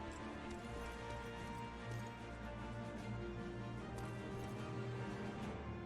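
Many footsteps in the World War II shooter game Enemy Front form a faint, continuous, rapid patter of overlapping footfalls, quiet and steady throughout.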